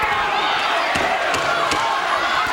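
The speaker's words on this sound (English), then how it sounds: "Crowd really into this." A boxing arena crowd roaring and cheering during the Mendoza versus Santos bout, a dense continuous wall of voices with a few sharp thuds cutting through, loud and unbroken across the whole stretch.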